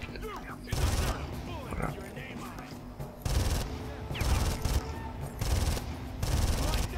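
Enemy gunfire in the shooter game Far Cry, dense bursts of automatic fire and booming shots rolling almost continuously, with someone talking over the gameplay.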